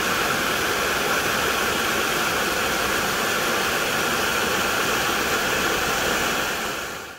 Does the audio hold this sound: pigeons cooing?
no